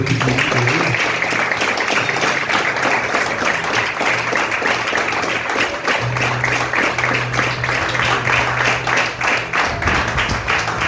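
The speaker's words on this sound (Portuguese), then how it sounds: "e queria uma salva de palmas para Jesus." A church congregation applauds in sustained, dense clapping that fills the room and stays loud and steady throughout, with no pauses.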